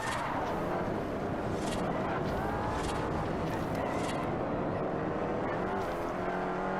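A race car engine in the video game Forza Horizon on the second lap of a race, a steady droning roar with the pitch shifting as it changes gear, continuous and fairly close throughout.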